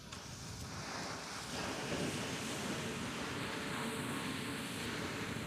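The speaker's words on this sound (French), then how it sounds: "ces vagues viennent de devenir beaucoup plus grosses." Ocean surf growing rougher around a small pink radio-controlled fishing boat, a steady broad wash of waves and wind noise filling the whole stretch, no voices.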